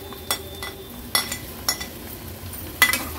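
Kantole, spiny gourd, is stirred and sautéed in spice paste in a pan, with a few sharp spoon clinks and scrapes against the metal over a faint low sizzle.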